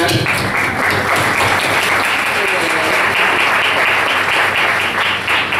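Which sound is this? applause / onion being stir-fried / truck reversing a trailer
applause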